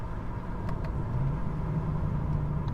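Diesel BMW engine dropping a gear on the road, a steady low drone with a slight pitch shift, close and continuous, with no talking over it.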